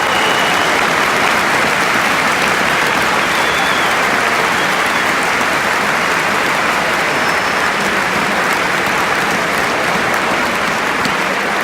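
A football crowd at Birmingham City versus Brentford claps continuously, a broad roaring wash of many hands across the stadium, loud and unbroken from start to finish with no clear speech.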